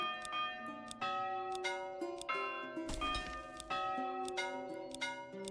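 Church bells in the medieval city-building game Manor Lords ring out in a series of bright, resonant strikes about once a second, each tone lingering and overlapping the next, with one heavier clang in the middle.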